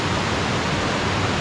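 Water rushes steadily inside an abandoned tourist cave, a dense, even roar that stays broad and constant for a brief moment with no other sounds.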